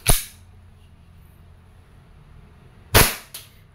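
KJWorks KP-06 airsoft pistol firing, a sharp crack at the start, then after a pause another loud shot followed quickly by a fainter third pop.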